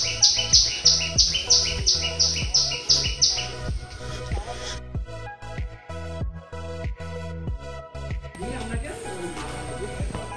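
In a mangrove forest near Taki, a bird repeats fast, evenly spaced bright chirps for the first few seconds. A low droning background runs beneath, and scattered quieter sounds follow once the calls stop.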